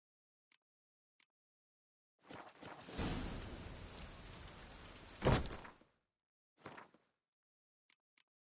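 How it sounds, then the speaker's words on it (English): Rain falls in The Witcher 3: Wild Hunt as a soft wash that swells for a few seconds with a brief louder gust, framed by isolated faint clicks and near-silence. "raining."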